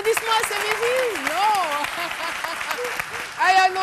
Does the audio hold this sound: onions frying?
no